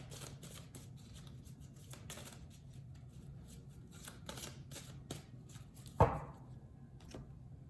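Playing cards shuffle softly in a rapid riffling patter, followed by a sharp tap as a last card is drawn, quiet and close.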